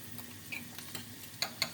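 Almonds frying gently in oil that started cold, giving a soft, steady sizzle with a few light clicks of stirring, close and fairly quiet.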